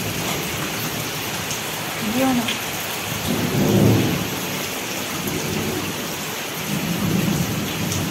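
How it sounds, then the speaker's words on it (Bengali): Heavy rain hisses steadily on a flooded rooftop while low thunder rumbles roll in a few times, and a voice speaks briefly over the downpour. "এত বৃষ্টি হচ্ছে, ছাদ পুরো জল জমে গেছে, ঝমঝম করে বৃষ্টি"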